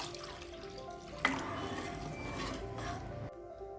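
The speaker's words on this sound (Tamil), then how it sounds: "தண்ணி ஊற்றிக்கலாம்." Steady running water splashes into a pan of Pongal kulambu (Tamil curry), a continuous liquid wash with a brief clink near the start and a quieter tail at the end.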